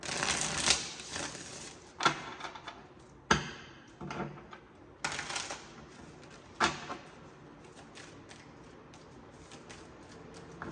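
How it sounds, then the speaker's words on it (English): Tarot cards are riffle shuffled in several sharp bursts of rapid fluttering clicks, with quieter handling and shuffling between them, close up. "I'm just gonna keep looking at it while I start shuffling the tarot."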